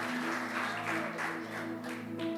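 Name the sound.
congregation applauding in church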